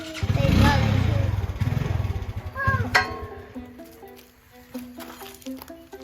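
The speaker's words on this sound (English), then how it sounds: "Back the four-wheeler up." A four-wheeler ATV engine rumbles and revs while reversing, loud and close at first and then fading, with people talking over it and brief higher squeals.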